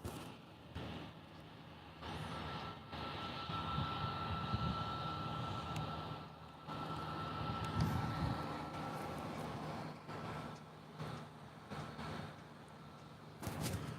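Southwest Airlines airliner at LAX, a steady broadband jet roar with a faint whine, rising and falling slightly as other traffic noise mixes in, heard at moderate distance throughout with no talk.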